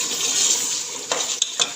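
Green chilies go into chicken masala frying in a pot, a brief hissing sizzle followed by a few quick spoon scrapes and clinks against the pan.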